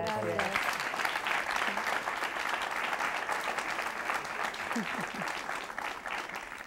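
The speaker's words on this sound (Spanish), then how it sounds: "Bienvenidas y un aplauso para ellas." A studio audience applauds steadily for two women guests on a live Spanish-language talk show, the clapping dense and sustained throughout with a brief voice at the start.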